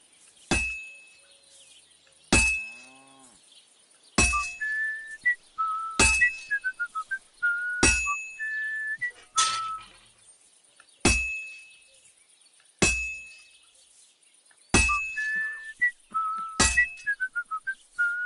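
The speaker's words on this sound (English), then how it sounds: "whistling and sparks are what we're looking for" In Kingdom Come: Deliverance II a sword is sharpened on a grindstone, with sharp metallic clinks at regular intervals and short tonal whistles in rising and falling steps, clear and close, no talking.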